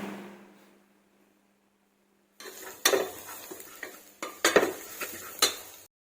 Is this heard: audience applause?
no